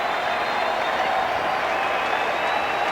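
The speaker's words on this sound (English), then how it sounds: "only the Mets fans are left. And they applaud." Mets fans applauding and cheering at Yankee Stadium at the end of a baseball game, a steady, dense roar of clapping and crowd noise heard from a distance without a break.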